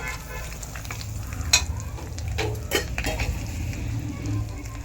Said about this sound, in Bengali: কিছু গোটা গরম মশলা, লবঙ্গ, এলাচ আর দারচিনি, ফোড়ন দিয়ে দেবো